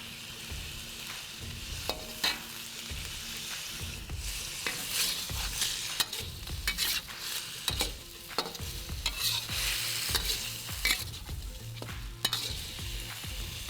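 Chopped green onions are tossed into a wok of almost-cooked shrimp for ma po tofu. Steady oil sizzle runs under repeated scraping and clattering stirs of the spatula against the metal, close up with no talk.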